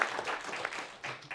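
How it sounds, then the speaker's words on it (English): Audience applause after a group presentation at an institution-design hackathon, a soft, brief patter of many hands clapping in a room, fairly quiet and a little uneven. "Applause."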